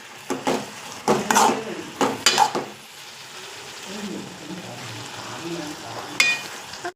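Mathura kizhangu leaf thoran being stirred in a pan on a low flame, several scraping, clattering strokes of a spoon against the pan followed by a soft, steady sizzle.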